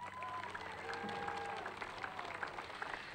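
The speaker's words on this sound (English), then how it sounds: "A round of applause, please." Applause from a graduation ceremony audience for the class of 2020 officers at Apponequet Regional High School, a steady wash of clapping with faint crowd murmur and tonal hum beneath, moderately distant.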